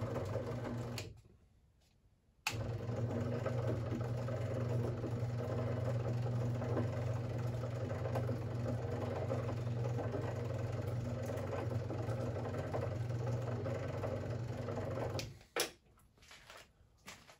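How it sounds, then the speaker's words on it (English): A treadmill incline motor driving the lead screw to raise and lower a homemade adjustable-height column mill, a steady mechanical whir that starts and stops, starting and stopping a few times, close by with no speech. "I have this powered with a treadmill incline motor."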